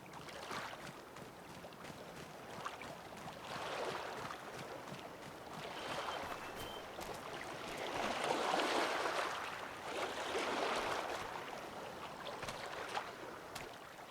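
Continuous rushing water noise in the Farming Simulator 25 video game, set in Silverrun Forest, swelling and fading in soft waves without any talk.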